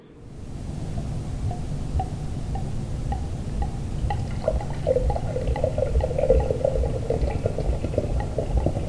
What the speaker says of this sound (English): I'm going to pour a little glass of this mead that I made